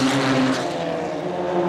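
Formula Vee race cars with four-speed gearboxes at speed across the top of Mount Panorama, Bathurst, a loud continuous engine drone filling the whole stretch, with the pitch dipping slightly early on.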